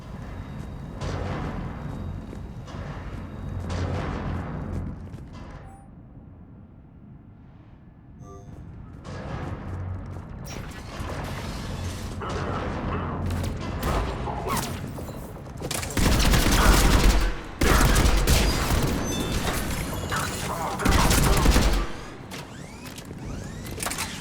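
Cannons fire during a battle in the video game Mass Effect 3, with repeated heavy booms and rumbling blasts that swell into loud bursts toward the end, alongside continuous battle noise.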